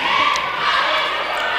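Spectators at a girls varsity high school playoff basketball game cheer in a loud, sustained roar that fills the gym.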